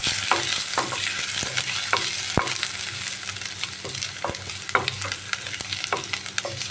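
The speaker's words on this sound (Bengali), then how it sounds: "ফোড়নটা একটু ভাজা ভাজা করে নেব।" Chopped ginger and two split bay leaves fry in hot oil in a pan, giving a continuous close sizzle broken by regular scraping and clacking strokes of a stirring spatula, with no talking.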